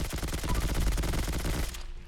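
Automatic rifle fire aimed at a radroach in Fallout 4: a fast, even burst of loud close shots that stops near the end, leaving a faint tail.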